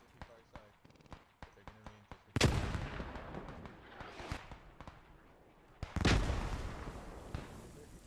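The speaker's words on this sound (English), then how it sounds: "Those mortars are coming in very close." Mortar shells burst close by in the video game Post Scriptum: two heavy, booming explosions with rumbling decay, preceded by a string of sharp distant shots and faint voices talking.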